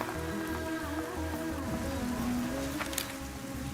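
Heavy rain pours down in a steady, dense wash of drops on surfaces, continuous and fairly loud throughout, with a low engine-like hum underneath.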